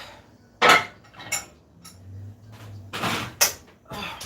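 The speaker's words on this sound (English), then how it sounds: "Let me get this stuff out of this oven." Items being taken out of an oven, with a few sharp metallic clanks of pans and racks and a door-like thud, separated by brief quiet gaps and a low hum.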